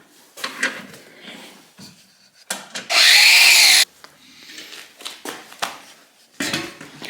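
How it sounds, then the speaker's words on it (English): An angle grinder cuts a car part during a Garrett turbo kit install on a Mitsubishi Evolution 8, giving one loud, steady burst of just under a second amid quieter workshop clatter and handling noises. "You're just going to have to cut it, there's no getting around that. So, get your grinder out."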